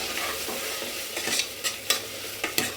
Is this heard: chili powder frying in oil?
yes